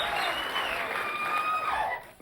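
Studio audience applause on a 1984 late-night talk show, a dense steady clapping from a large crowd that carries the whole stretch before thinning out near the end.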